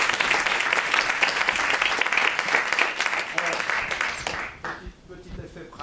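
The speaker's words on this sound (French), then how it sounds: "Applaudissements pour encourager les comédiens." A theatre audience gives a dense round of applause to encourage the actors, full and sustained at first, then thinning out and fading toward the end.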